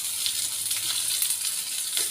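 Chopped cluster beans fry in hot oil tempered with mustard seeds, urad dal and curry leaves, giving a steady, close hiss of sizzling with faint crackles and no voices.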